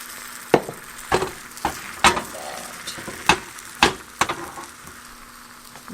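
An omelet cooks in a pan, its steady frying hiss running beneath a series of sharp clicks and taps from a utensil working at the egg, spaced roughly every half second to second.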